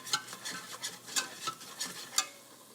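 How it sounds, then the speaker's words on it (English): A whisk beats flour into melted butter for a roux in a pot, each stroke a light scraping tap in a steady rhythm of about eight strokes, close and fairly quiet, with no talking. "Just whisk it, whisk and whisk and whisk away"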